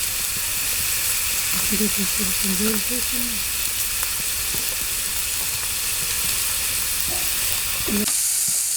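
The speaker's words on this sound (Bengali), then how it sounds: "সব কিছু এখন কষিয়ে নিচ্ছে" Vegetables from a home garden are sautéed with cumin, coriander, turmeric and salt for a small fish curry, giving a steady close sizzle and hiss throughout, with brief voices and clinks partway through.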